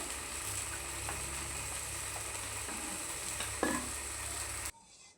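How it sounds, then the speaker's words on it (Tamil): Steady sizzling and bubbling from fish curry simmering in a pan on the stove, continuous and close, with a brief clatter near the end before it cuts off. "சேர்த்துட்டு குழம்பு எண்ணெய் பிரிஞ்சு வர வரைக்கும் கொதிக்க வைப்போம்."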